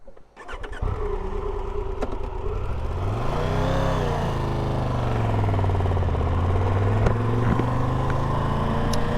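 A 2022 Triumph Tiger 1200 Rally Pro motorcycle rides on the road with a steady, loud engine note that rises and falls with the throttle. It starts with a brief burst, then holds a continuous drone, and there is no speech.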